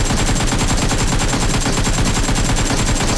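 Rapid automatic gunfire from the PUBG Mobile battle royale game rattles loud and continuous for about three seconds, a dense, steady burst with no voices over it.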